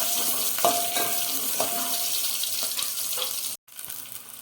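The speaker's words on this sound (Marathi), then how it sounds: "तर आता तेल बऱ्यापैकी गरम झालेलं आहे. तर आता आपण पहिलं कांदा टाकूया." Onion dropped into hot oil in a pan, giving a steady close sizzle with a few crackling spurts and light scraping, broken by a momentary dropout near the end, with no talking.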